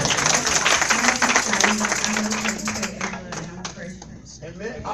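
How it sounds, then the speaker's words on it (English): A church audience claps along in loose, uneven applause while voices talk and call out over it, the clapping tapering off toward the end. "Please clap your hands for us."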